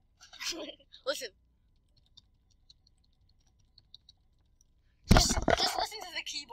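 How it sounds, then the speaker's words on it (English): Faint, sparse computer keyboard clicks tap irregularly in a quiet room, with brief whispered speech before and louder talking at the end. "Just listen to the keyboard."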